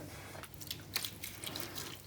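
Water runs from a bathroom tap during makeup brush cleaning, a soft steady trickle and splash with small drips, fairly faint and continuous throughout with no voices.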